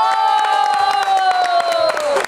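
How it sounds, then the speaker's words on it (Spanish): A studio audience at a youth television magazine show cheers and claps for a guest, with sharp hand claps and crowd noise beneath a loud, sustained whistle-like tone that slowly falls in pitch. "quiero que le demos nuevamente la bienvenida y con un fuerte aplauso al gran Mauro, el Toro Cantoro."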